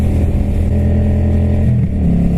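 A Kawasaki Vulcan 750 motorcycle accelerates hard to pass, its engine droning loud and close with a rising pitch shift partway through, no voices over it.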